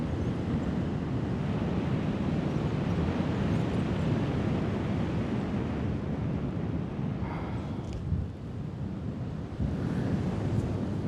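Sea waves wash around the Blue Lagoon in Turkey in a continuous roar of surf, mixed with wind buffeting the microphone, loud and steady with no voices.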